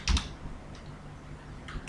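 Quick keystrokes on a computer keyboard while writing Bootstrap code, a short burst of clicks at the start and a few scattered taps later, close and moderately loud with no talking.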